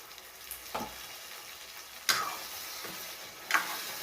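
Drumstick pods (shevga) sautéed in a pan, with a soft steady sizzle broken by three or four distinct scraping stirs of a spatula against the pan.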